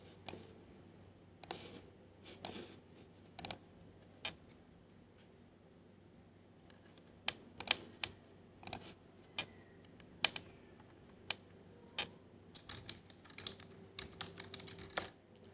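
Keys tapped on a computer keyboard while entering MATLAB commands, irregular bursts of sharp clicks with short pauses between, close and fairly quiet against a faint room hum.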